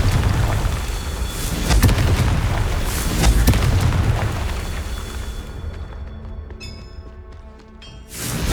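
A Confringo fire spell bursting in the Hogwarts Legacy video game, a loud sustained rumbling blast with crackling debris that decays over several seconds before a final sharp burst at the end, with no talk.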